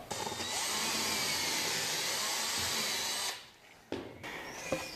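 Power drill boring a hole into the face of a wooden bathroom cabinet panel with a depth stop, a steady close whining drone for over three seconds that cuts off, followed by a few small knocks.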